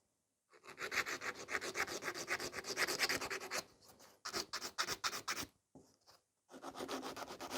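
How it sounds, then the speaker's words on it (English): Acrylic nails being filed by hand, close and loud rhythmic scratchy strokes in several bursts separated by short pauses, with no talking. "acrylic is much harder to file than the gel is."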